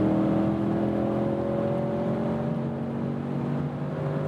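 Audi S8 limousine at about 150 km/h dropping from seventh to fifth gear, a steady loud engine drone and road roar throughout with no clear break, carrying on under acceleration.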